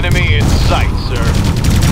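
Heavy gunfire and explosions in the real-time strategy game Ground Control II: Operation Exodus, a dense continuous battle din with rapid shots, under radio-style voice chatter from units.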